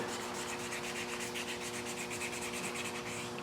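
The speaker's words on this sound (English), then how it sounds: "So I have some 400 grit. Okay, go ahead and wet the area, and we're just going to sand it out smooth." Painted surface wet-sanded by hand with 400 grit sandpaper, a continuous close scratchy rubbing in quick back-and-forth strokes, steady and fairly quiet with no talking.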